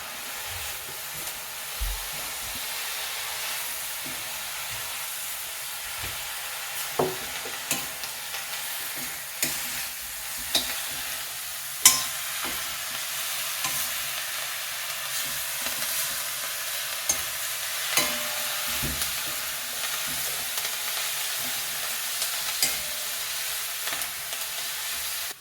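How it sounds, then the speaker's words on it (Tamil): Coriander leaves and grated coconut sauté in oil in a pan, a steady soft sizzle running throughout with scattered stirring scrapes and clicks of a spoon against the pan, no talking. "இப்போது இந்த போட்ட கொத்தமல்லியும் நல்லா வதங்கிடுச்சு."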